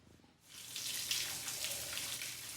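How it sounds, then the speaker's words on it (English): Shower water in a TV comedy scene from Big School starts after a brief quiet moment and then runs as a steady, close, hissing spray. "This is Mr. Church and his love rival, Mr. Gunn, squaring up in the shower in Big School"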